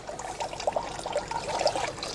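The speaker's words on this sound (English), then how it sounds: "We pour this back in here." Liquid from an essential oil distillation is poured back into a container, a short, close trickling and splashing stream with small bubbly gurgles, fairly quiet and with no talk.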